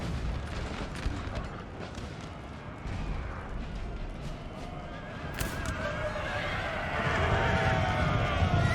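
Cavalry horses whinny amid a Napoleonic-era battle in Napoleon Total War, with neighing and hoofbeats mixed into a dense rumble of artillery and musket fire that swells louder toward the end.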